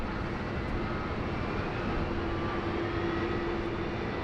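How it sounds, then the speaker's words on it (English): A Qantas airliner, flight 81, makes an intersection departure from Sydney Airport, giving a steady, loud engine roar with a faint whine running through it and no speech. "Unfortunately, Qantas flight 81, sorry, intersection departure."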